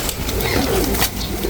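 Pigeons coo at a crowded bird market, a short burst of soft, throaty calls close by over a busy background.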